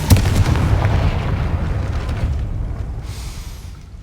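Confringo fire spell detonating in the Hogwarts Legacy video game, a loud booming blast at the start that rumbles and slowly fades away over several seconds.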